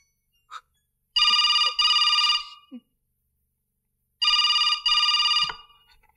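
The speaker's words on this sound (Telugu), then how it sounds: "మహాలక్ష్మి, నీకే ఫోన్." A telephone rings in two double bursts separated by a pause, bright and electronic, with faint movement sounds between the rings and no speech.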